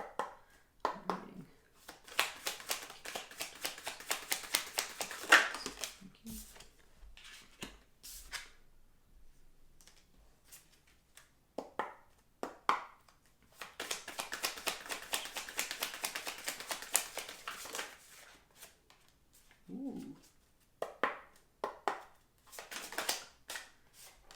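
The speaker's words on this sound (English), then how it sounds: "So let's pull some cards." A tarot deck is shuffled and cards are drawn in two long bursts of dense, crisp riffling close up, separated by softer taps and card handling in a quiet room.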